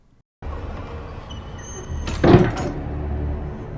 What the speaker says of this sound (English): He crawls in to look for her, and then the door suddenly closes.